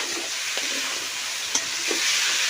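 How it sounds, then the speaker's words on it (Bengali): Chicken pieces fry in hot oil with a constant bright sizzle, with occasional soft clicks and stirring knocks from a utensil, close up and with no voices. "ভাজা হচ্ছে।"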